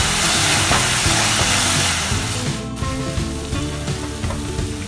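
Ingredients for vegetable corn tikki sizzle steadily in a hot pan as they heat through, with a dense, continuous crackle and faint scraping now and then. No voices.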